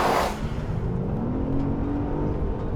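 A 2021 Genesis G80 drives past, a soft steady engine and tyre whir with a brief louder swell at the start, then a low continuous rumble, with no talking.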